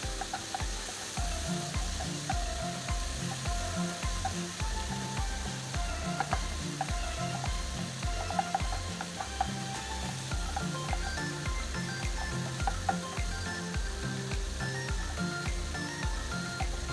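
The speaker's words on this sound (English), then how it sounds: "And I give them a good fry." Bacon and potato sizzle steadily in a hot pan, a continuous frying hiss with a pulsing rhythmic undertone from the burner, fairly quiet and close with no talking.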